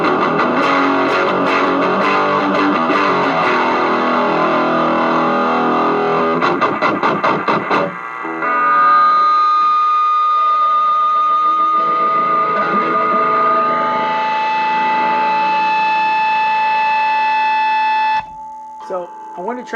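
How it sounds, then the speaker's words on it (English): Electric guitar run through a Ghoul Screamer into a heavy metal distortion pedal, first a loud high-gain chugging riff, then sustained notes blooming into a steady, piercing feedback tone that holds for several seconds before stopping. "the heavy metal pedal with the Ghoul Screamer, there's that feedback again. It feeds back so nicely."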